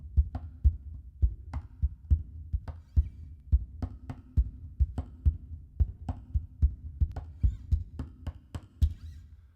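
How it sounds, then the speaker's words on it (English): Steady rhythmic knocks on a guitar's hollow wooden body, a repeating percussive pattern close up with a low resonant thump under each hit. "That's me tapping on the guitar too."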